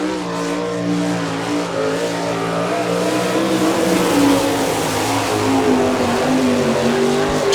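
A sprint car with a Stealth chassis and Williams racing engine racing at All Star Circuit of Champions at Chillicothe, Ohio, a loud continuous engine roar with rising and falling pitch and tire noise as it laps.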